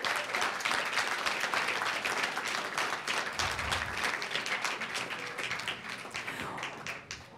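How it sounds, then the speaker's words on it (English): A school board meeting audience gives a big round of applause for the administrative team, dense continuous clapping from a large crowd filling the room, steady throughout and tapering slightly at the end. "Let's give this team a big round of applause."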